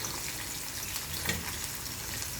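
Curry leaves and onion pieces frying in hot oil in a pan for a Telugu brinjal stir-fry with ginger-garlic paste, giving a dense, steady sizzle and crackle close by.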